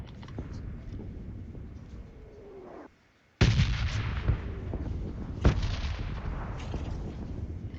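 Gunfire in the mobile game PUBG Mobile: after a brief lull, a sudden loud shot rings out, followed by another sharp blast about two seconds later, each trailing off over steady background noise.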